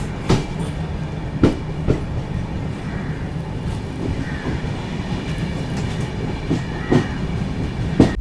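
Mandovi Express rolling along the rails on its Mumbai to Goa run, a steady rumbling clatter with periodic sharp wheel clicks over rail joints, close and continuous with no voices.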